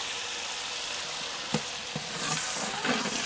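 Whole spices such as fennel, cinnamon, cloves and cardamom fry in oil in a pot with a dense, steady sizzle, broken by a few close spoon taps and scrapes near the middle and end.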